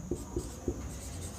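Marker or chalk writing on a board during a Class 9 maths lesson, with three short scratchy strokes in the first second followed by a steady faint background.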